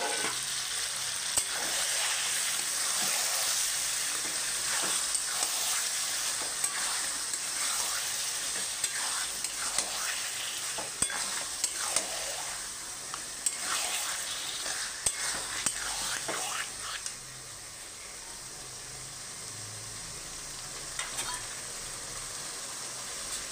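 Marinated deshi chicken frying in spiced oil that has started to separate, with a steady loud sizzle and crackle throughout and scattered stirring clatter, easing slightly near the end.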